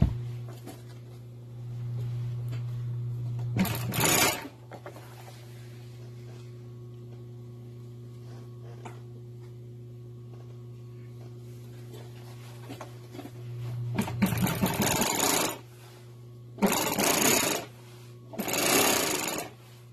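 A sewing machine stitches pieces of a boat cushion cover in several bursts: one near the start, a longer run later, then two short ones, with a steady hum between them.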